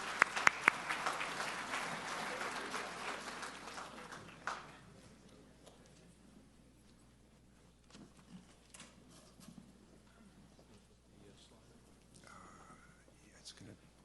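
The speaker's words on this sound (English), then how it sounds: "give another round of applause to our panel" At a homeland security border press event, an audience claps for the panel in a fairly faint crowd patter that lasts about four seconds and then dies away into room murmur and shuffling.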